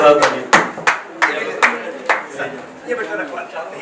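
An audience at an awards ceremony claps in a few sharp, separated bursts under a speaking voice, with scattered hand claps rather than sustained applause.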